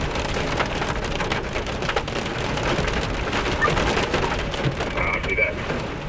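Hail and rain from a storm pelt the surface of a car heading east on a highway, a steady dense clatter of drops and pellets close by throughout.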